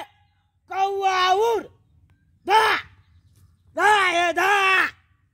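A human voice imitates a crow's caw in a comic Maithili village skit: three loud, nasal 'kaa' calls up close, the last one long and wavering, with short silences between them.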